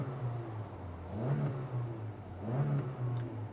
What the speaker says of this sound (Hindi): Neutral gear and listen to the engine now.